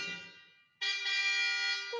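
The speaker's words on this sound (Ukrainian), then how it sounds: "Сигналить автомобіль" A single sustained car horn honk blares loudly and close for about a second, following a softer fading tone.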